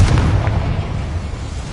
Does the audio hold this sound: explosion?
yes